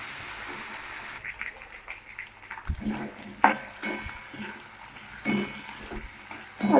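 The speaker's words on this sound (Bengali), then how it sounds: "আলুটা আমরা হালকা ভেজে নেবো।" Potatoes lightly frying in a pan, with a faint background sizzle under scattered soft clinks and scrapes of a spatula stirring them.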